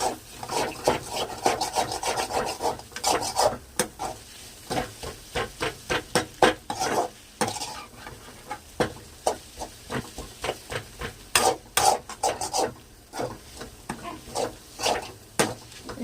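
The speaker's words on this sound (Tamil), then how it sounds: "அப்போ முட்டைக்கோஸ் எடுத்து போடணும். நல்லா கிளறிக்கலாம்." Shredded cabbage stirred in a frying pan for chicken noodles, a steady run of quick, close scraping and rasping strokes of a utensil against the pan, repeating in uneven bursts with no voices.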